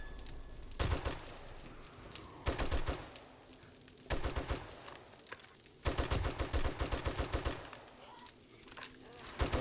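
Automatic gunfire from 7 Days to Die comes in four distinct rapid bursts, each a string of close, punchy shots separated by brief pauses.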